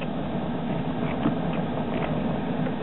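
A Gingery metal lathe turning at 300 RPM with cutting fluid on the work gives a steady, even mechanical whir with faint repeating ticks, moderately loud and close.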